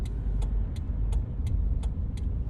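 A Toyota Corolla E110 with 159,741 miles, driven after sitting unused for many months, gives a steady, fairly loud engine and road drone from inside the cabin, with a faint repeated ticking every half second or so.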